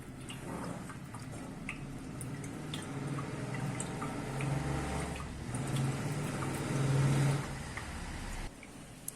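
Whey drips and squelches from a twisted cloth of hung curd for fruit shrikhand, faint wet drips scattered over a low background rumble.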